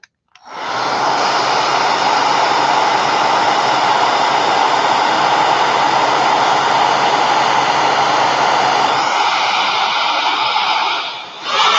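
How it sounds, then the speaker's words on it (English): A hair dryer blows steadily over a freshly stamped card, a loud, even rushing roar running almost the full length without a break, then cutting out briefly near the end. "And then I am going to blow dry this one just a quick minute"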